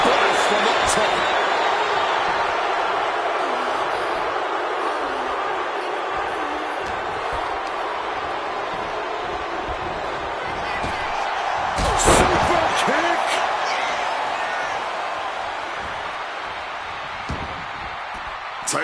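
A wrestler's top-rope splash lands with a sharp slam on the mat in the WWE 2K26 video game, one loud impact midway over a constant arena crowd roar, with commentary talking throughout.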